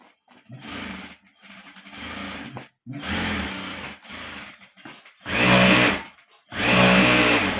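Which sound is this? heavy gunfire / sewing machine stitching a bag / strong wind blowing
sewing machine stitching a bag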